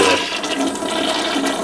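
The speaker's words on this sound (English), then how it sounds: "there's the 5-gallon flush toilet" An old Briggs 5-gallon toilet with an old handle flushes, a loud, close rush of churning water that roars steadily throughout.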